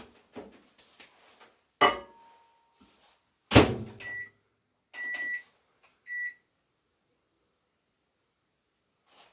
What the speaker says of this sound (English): we're going to put them in the microwave while we mix up our cream cheese